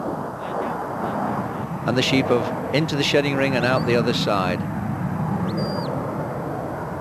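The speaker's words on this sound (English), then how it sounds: "A lot of noise from the jet coming over." A jet aircraft passes over an outdoor sheepdog trial, where sheep are being driven through a shedding ring; a steady broad roar fills the whole stretch beneath continuous commentary from a man.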